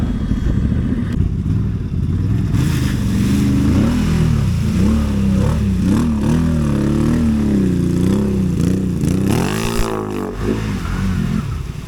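A CFMoto Cforce Turbo ATV engine runs steadily and loudly close by, its note rising and falling in wavering revs throughout, with a harsher surge near the end.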